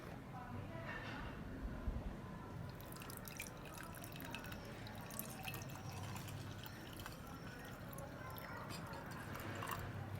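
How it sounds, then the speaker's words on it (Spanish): Water is poured into a glass holding carrot and salt, giving a steady splashing and trickling fill that runs for several seconds. "Luego entonces vamos a agregar el agua"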